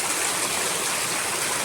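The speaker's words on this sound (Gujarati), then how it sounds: "પણ પાણી જોવો કેટલો વરસાદ છે" Heavy rain with water pouring down from above into a street, a dense, continuous rushing roar close to the listener.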